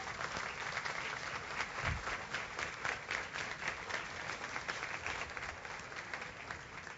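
A church congregation applauds during a pastor's sermon, a thick, even roll of many hands clapping that holds steady with no voice over it.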